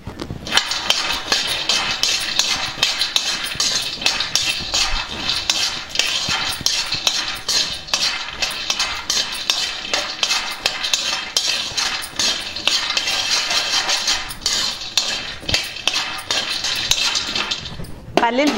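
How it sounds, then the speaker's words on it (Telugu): Peanuts roasting in a pan on a stove for peanut laddu, with a dense, continuous rattle of nuts and spatula scraping against metal that stays loud and steady throughout. "ఇప్పుడు పల్లీలు వేసి వేయించుకుందాం."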